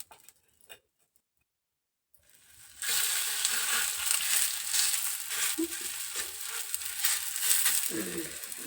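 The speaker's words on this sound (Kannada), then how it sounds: "ಹಂಚು ಕಾದೈತಿ. ಸ್ವಲ್ಪ ಎಣ್ಣೆ ಹಾಕ್ಬೇಕಂತ ಎಣ್ಣೆ ಹಾಕಕತ್ತೀನಿ." Oil sizzling on a hot griddle while making aloo paratha, a steady crackling hiss that starts after a quiet pause and holds loud and continuous, with faint bits of voice and movement underneath.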